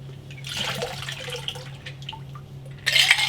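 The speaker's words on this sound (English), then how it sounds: "Get rid of all the beer line cleaner." Beer line cleaner poured out of a jug into a sink, a soft splashing gush of liquid with a low background hum, ending in a louder burst of running water.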